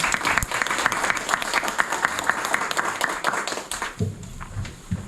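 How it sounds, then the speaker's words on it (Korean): A room full of people applauding steadily at a National Assembly seminar on aviation security screening, dense clapping that carries on for several seconds before thinning out toward the end. "다시 한번 뜻깊은 세미나 자리를 마련해 주신 의원님께 큰 박수 부탁드립니다."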